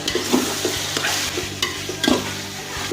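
Garlic paste, ginger paste, black pepper and salt being stir-fried for yakhni pulao, with a continuous loud sizzle and repeated scraping strokes of a spoon stirring through the pan.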